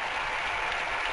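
A football stadium crowd at a Spanish league match applauds steadily, a dense, even wash of distant clapping that holds without pause for its full length.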